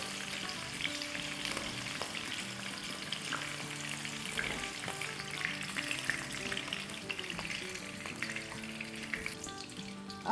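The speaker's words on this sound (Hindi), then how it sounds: "तो मिर्चों को अराउंड हम 4-5 मिनट तक फ्राई करेंगे, जब तक ये थोड़ी सी सॉफ्ट ना हो जाए।" Green chilies fry in hot oil in a home kitchen, with a steady close sizzle and crackle that runs the whole time and occasional stirring clicks, no talking.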